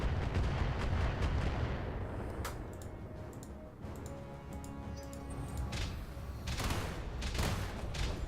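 Turrets fire repeatedly in the Battletech video game, a dense, continuous barrage of booming shots and blasts layered over a constant rumbling background, with no voice.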